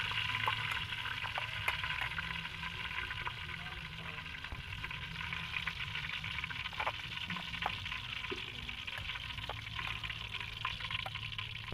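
Foraged forest mushrooms frying in oil in a pan outdoors in a rural setting, a steady close sizzle and crackle with occasional pops, continuous throughout without speech.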